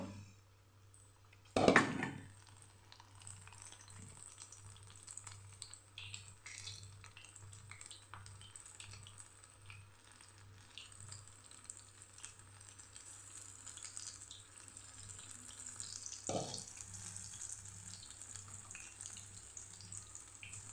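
Chili fritters (bhajiya) sizzle steadily in hot oil over a medium gas flame, a continuous quiet crackle broken by a sharp clatter near the start and another brief knock later.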